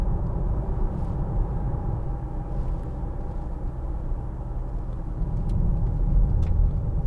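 A 2012 Land Rover Freelander 2 TD4 cruising on a rough motorway, a steady low road rumble and engine drone heard from inside the cabin, with no talk.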